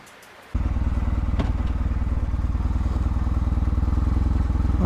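An air-cooled Moto Guzzi motorcycle engine fires up abruptly and settles into a loud, close, steady lumpy idle with a rhythmic pulsing beat and no voices.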